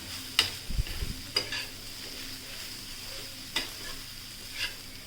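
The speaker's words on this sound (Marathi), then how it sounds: "आता हे सर्व मसाले आपण मस्तपैकी भाजीमध्ये मिक्स करून घेऊयात" Spices are mixed into frying masala pav bhaji with a spoon against the pan. Soft irregular scrapes and light clinks sound every second or so over a faint, steady sizzle, and no one talks.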